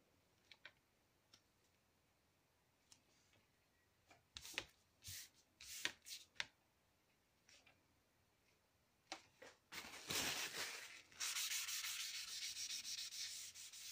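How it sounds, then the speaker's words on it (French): Paper towel rubs down freshly glued paper on a Christmas album page in a series of short scratchy strokes, then a longer continuous rubbing run near the end, close and fairly faint with no talking. "On vient frotter un petit peu avec notre papier."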